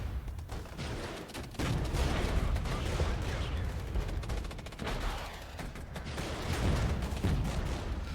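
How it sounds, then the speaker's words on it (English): Heavy sustained gunfire and artillery pound at M48 tanks in the war game Regiments, a dense continuous barrage of overlapping shots and blasts with louder bursts throughout, some speech faintly mixed in. "We have so much fire coming in at those tanks."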